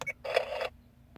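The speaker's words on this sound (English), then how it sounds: "if you press this button down here, you can hear a little shutter sound." A dashcam's electronic shutter sound plays as a picture is taken: a couple of quick clicks, then a brief bright burst, with a faint tick shortly after, close and quiet.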